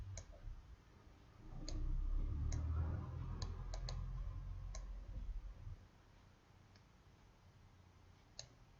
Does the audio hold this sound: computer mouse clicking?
yes